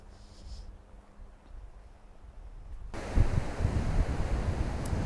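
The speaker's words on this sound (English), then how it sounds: "It's quite windy in here, but it's not cold." Wind at the seaside, starting as a soft hiss and then turning into loud, gusty blustering against the microphone for the second half, with no voices.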